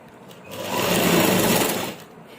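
Sewing machine stitching a kameez seam, a steady close mechanical whir that rises into a louder, faster run for about a second before slowing back down.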